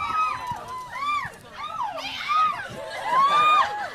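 A crowd of fans at an interview cheers and whoops in a lively, continuous din of high shrill yells and rising squeals, near and loud, with voices rolling over one another throughout.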